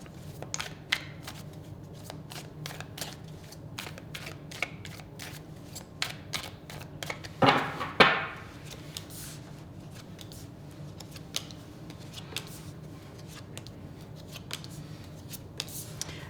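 Tarot cards shuffled and drawn by hand in a quiet room: a long run of quick, crisp riffling flicks and taps, with a louder burst of fanning snaps midway, close and without talk.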